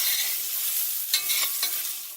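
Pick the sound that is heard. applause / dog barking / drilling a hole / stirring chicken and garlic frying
stirring chicken and garlic frying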